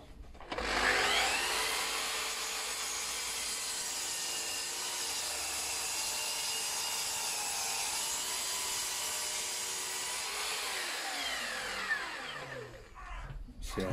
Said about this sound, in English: I'm going to trim this end up.